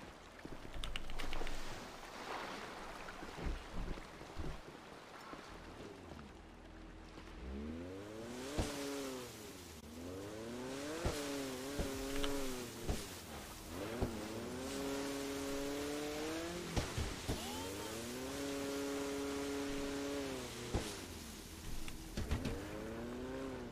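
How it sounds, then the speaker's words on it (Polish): A motorboat engine in the video game GTA V drones steadily with repeated rising and falling pitch sweeps as it revs, loud and continuous, with game sound underneath and no talk. "Motorówki."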